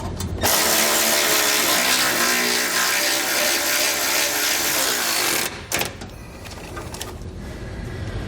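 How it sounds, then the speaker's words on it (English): A button head screw with a flat washer is driven into a bracket while installing Air Lift LoadLifter 5000 air helper springs on a 2013 Ford. A loud, continuous power-tool whir lasts about five seconds, followed by a few shorter bursts. "We're going to take our button head screw, flat washer, and we're going to thread it right into place."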